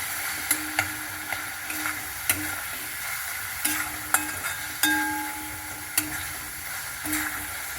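Turmeric and spices stirred in a pan for Gujarati-style dal dhokli, a steady low sizzle broken by sharp spoon scrapes and taps against the metal every second or so, close and alone.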